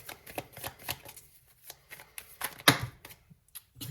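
Tarot cards are shuffled by hand in a series of quick papery riffling bursts, close and fairly quiet, with a sharper, louder snap of the deck near the end and no talking.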